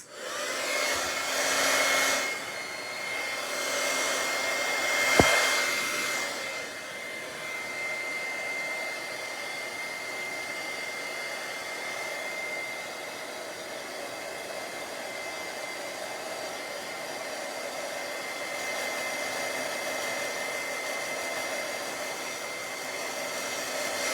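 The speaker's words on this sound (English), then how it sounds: "I'm gonna go back to my heat gun." A heat gun blows hot air onto alcohol inks, a steady loud whooshing roar held for over twenty seconds with a slight dip in the middle and no talking.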